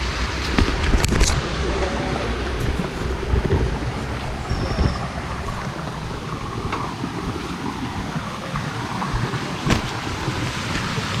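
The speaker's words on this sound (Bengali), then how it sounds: "আমরা এই মুহূর্তে ঝর্ণার একটা সাউন্ড শুনতে পাচ্ছি।" The Khoiyachora waterfall roars in the jungle as a constant, loud, broadband rush, with occasional bumps and knocks close to the listener.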